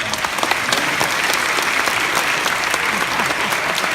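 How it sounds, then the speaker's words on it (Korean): Sustained applause from the audience at the Baejae Appenzeller choir's ninth regular concert, a dense, even wash of many hands clapping for the full length with no pause. "영광의 박수 올려드리겠습니다"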